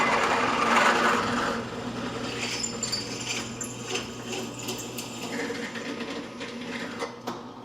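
A tap cuts threads into a hole in metal lubricated with cutting oil during a Farmall Super H tractor restoration, giving a steady whirring, grinding drone that holds for several seconds and tapers off, with no talk over it.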